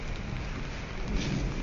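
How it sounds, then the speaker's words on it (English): Heavy rain and gale force wind batter the outdoors in a steady, dense roar with low rumbling gusts and no voices. "gale force wind,"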